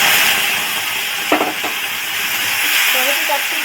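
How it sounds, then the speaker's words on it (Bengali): Asafoetida tempering sizzles steadily in hot oil in a pan while being stirred for a cottage cheese curry, with a brief scraping stroke midway and soft spatter throughout. "ফোড়নটা কয়েক সেকেন্ড আমি এইভাবে নেড়ে নিচ্ছি"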